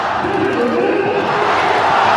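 Dense, loud roar of a cricket stadium crowd cheering at the Hong Kong Sixes final between Pakistan and Sri Lanka, a continuous wall of voices with no breaks.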